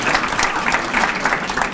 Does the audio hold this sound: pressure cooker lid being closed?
no